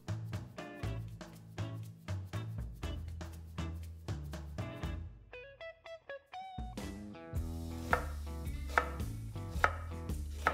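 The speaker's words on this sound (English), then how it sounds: "We're gonna go ahead and get our vegetables prepped for this crab stuffing" Vegetables chopped for crab stuffing, rapid rhythmic knife taps on a cutting board, heard under loud music with a brief pause before the quick chopping resumes.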